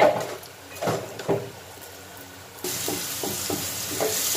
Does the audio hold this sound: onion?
yes